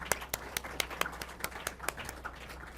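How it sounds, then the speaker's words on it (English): Committee members at a town committee forum receive a light round of applause: a handful of sharp, evenly spaced claps, quiet and somewhat distant in a large room. "Please, a round of applause."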